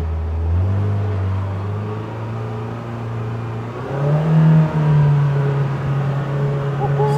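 A Polaris Pro R UTV engine idling low, then revving and accelerating with a rising pitch partway through, close and steady on a dirt driveway.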